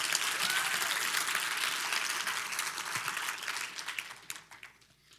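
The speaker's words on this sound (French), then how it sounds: "Est-ce que je peux entendre un Alléluia, une belle acclamation, quelque chose pour le Seigneur" Applause and crowd cheering at a church service, a dense steady roar of clapping that fades out toward the end.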